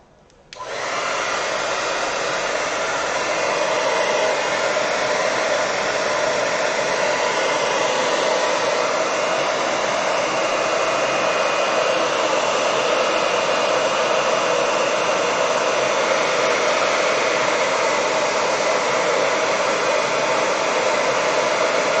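A hair dryer blows loud and steady over a wet watercolor painting, switching on abruptly at the start and holding a constant whooshing roar throughout with no talk.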